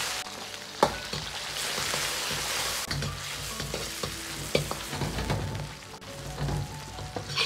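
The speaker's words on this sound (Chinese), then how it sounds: "接着下入五花肉片煸炒出香味" Pork belly slices stir-frying in hot scallion oil with star anise, a steady close sizzle and crackle of fat with occasional sharp spatula clinks against the wok, continuous throughout with no voices.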